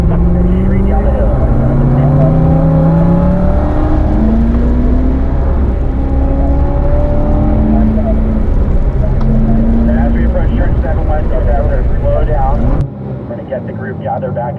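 A race car on the track at Spring Mountain driving school, its engine droning loudly and climbing in pitch as it accelerates uphill, with an instructor's voice running over the roar.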